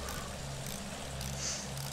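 A propeller warplane in the shooter game Battlefield 1 drones overhead, a steady, rumbling engine roar that holds at a fairly constant level throughout, with no talking.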